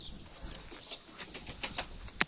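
Pigeons flap their wings as they scatter from a hawk outdoors, giving a scattered series of soft, brisk fluttering bursts at moderate distance, ending with one louder close flap.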